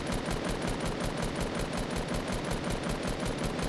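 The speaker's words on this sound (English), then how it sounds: "But, yo, I'm just shooting." Rapid automatic gunfire from a Fortnite match, a dense, continuous burst of loud shots in a fast steady rhythm with no pauses across the whole stretch.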